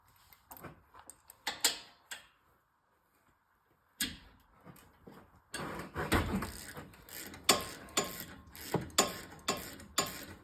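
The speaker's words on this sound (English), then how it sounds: "Now, caliper bolts. Take your 11 millimeter. Get these out of there." A hand ratchet working on the 11 mm brake caliper bolts of a 2021 Subaru Ascent during front brake service, giving bursts of close mechanical clicking and clunks, with a short silent gap and faint background noise.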